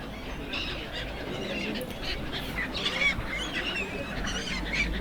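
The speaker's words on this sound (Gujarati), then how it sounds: "પક્ષીઓને લોકો ચણ નાખે છે અને પક્ષીઓ પણ એની મસ્તી નાખે છે." Birds, likely geese or fowl, honk and call in a busy, continuous flock near a temple where people scatter feed for them, moderately loud over a broad outdoor wash, with no talk.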